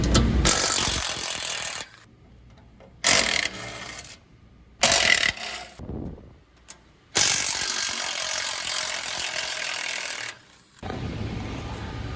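Ratchet turning Torx Plus 14 mm cover bolts on a new C8 Corvette Z06, loud continuous ratcheting in long bursts separated by short quiet gaps, close up with no talk.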